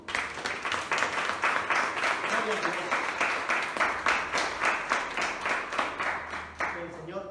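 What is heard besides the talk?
congregation applauding the pastor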